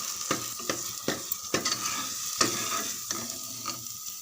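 A spoon stirs curry leaf thokku with jaggery in a pan, giving repeated scraping clinks at an uneven pace over a steady background sizzle, close and alone with no voices.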